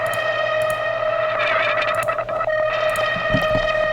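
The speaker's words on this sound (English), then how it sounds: "so that's what the reverb sound's coming from." An otherworldly reverb plugin effect in a music production washes over a sustained, distorted tone, giving a shimmering, echoing texture with swelling tails and faint rhythmic stabs, heard alone without voices.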